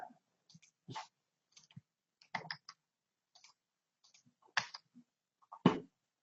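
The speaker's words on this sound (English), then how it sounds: "let's start typing in cats" Sparse, irregular keystrokes tap on a computer keyboard while a search is typed, with quiet single clicks and short bursts spread across the stretch with no talking.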